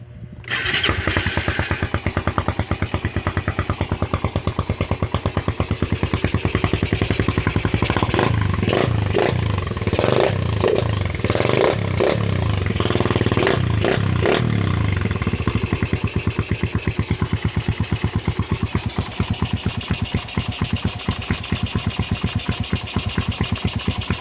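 A Yamaha R150 motorcycle fitted with a 30mm carburetor starts up and runs loud and close, a rapid rough idle with a burst of sharp throttle blips in the middle before settling back to a steady putter.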